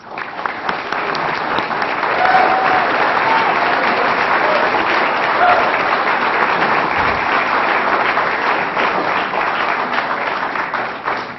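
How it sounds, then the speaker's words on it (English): An audience at a Technori Dubuque evening event applauds to welcome a speaker, dense sustained clapping that swells quickly and holds loud and even for about ten seconds, with no talk. "Let's please greet Jake with a round of applause."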